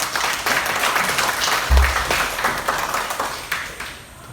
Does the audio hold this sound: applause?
yes